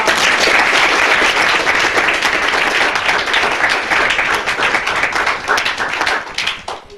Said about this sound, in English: let's give a round of applause for our educators